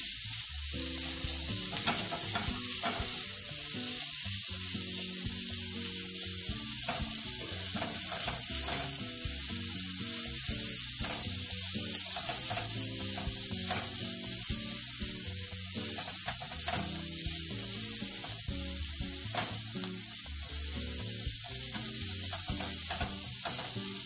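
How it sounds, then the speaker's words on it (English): Vegetable paratha filling mixed with mayonnaise sizzles steadily in a pan for a long stretch, with frequent scraping and clattering stir strokes over the constant frying hiss and no talking. "let's give it a mix and cook it further here."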